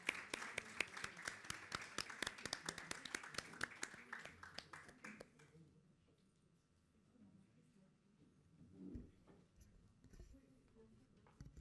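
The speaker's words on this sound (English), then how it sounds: "one more round of applause for the discussion and the panelists" Audience at a book launch applauds panelists, a scattered round of close, distinct claps that fades out after about five seconds, followed by quiet room noise and faint murmuring voices.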